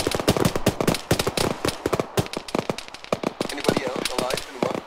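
Rapid gunfire in Arma during a ShackTac urban assault in London, dense bursts of close, sharp shots cracking in quick succession with short gaps, while a voice gives orders over the shooting.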